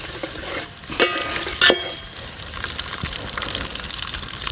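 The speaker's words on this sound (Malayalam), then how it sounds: "അടുത്ത് നമുക്ക് അരിഞ്ഞ് വെച്ച ഉള്ളി ഇട്ട് കൊടുക്കുക. അപ്പോൾ ഇതൊക്കെ കൂടിയിട്ട് നന്നായി ഒന്ന് വഴറ്റിയെടുക്കുക." Chopped onions, ginger and garlic sizzle softly in a pan as a spoon stirs them, with a couple of sharper scrapes over the steady frying hiss.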